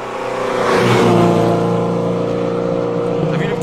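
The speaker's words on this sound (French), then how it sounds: "On regarde passer les voitures à la sortie de la première spéciale." A loud car engine roars past close by during the Tour Auto 2021 classic car rally, rising and then fading away as it passes at the exit of a special stage.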